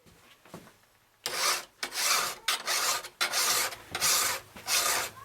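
A machete blade is sharpened with a file in a series of six loud, rasping strokes at a steady rhythm, each lasting about half a second, after a quiet opening second.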